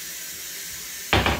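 Pressure cooker venting steam while cooking Haitian rice with bean sauce, a sudden loud broadband hiss bursting out after a quiet stretch, close and sputtering in short pulses.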